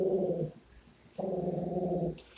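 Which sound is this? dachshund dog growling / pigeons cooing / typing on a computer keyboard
dachshund dog growling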